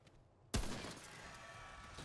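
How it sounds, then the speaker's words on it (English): Enemy gunfire erupts suddenly in the Remnant: From the Ashes video game, a sharp burst followed by a sustained noisy crackle and rumble, fairly faint overall. "somebody's already trying to shoot me"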